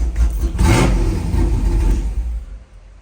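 Burnout truck fitted with two-step launch control, its engine revving hard and loud up close in a rough, sustained burst that peaks early and then settles lower.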